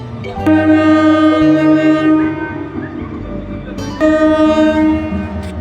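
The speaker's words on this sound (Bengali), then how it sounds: "এখন হচ্ছে এই ট্রেনটা ছেড়ে দেবে, দেখুন কত সুন্দর দৃশ্য" A train horn blares loudly in long sustained blasts, with the heavy rumble of a moving train underneath and a second horn blast near the end.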